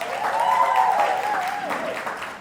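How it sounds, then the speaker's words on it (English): Audience applause for Sarah at a talk, a steady wash of clapping at moderate volume, with a tonal voice-like line running over it for most of its length. "I want to give a round of applause for Sarah right here."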